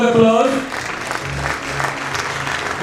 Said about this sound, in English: Friends, big round of applause.